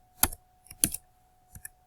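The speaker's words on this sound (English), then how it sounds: "I'm actually typing." A few separate clacks of keys on a computer keyboard during web coding, close and crisp in a quiet room, with short pauses between the strokes.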